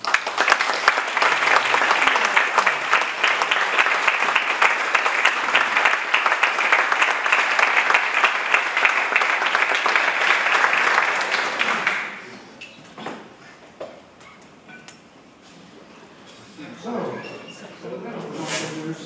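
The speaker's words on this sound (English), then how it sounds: "Let's give them a round of applause." Sustained round of applause from a Rotary club meeting audience, loud and dense for about twelve seconds before stopping abruptly; quieter room sounds and a voice follow.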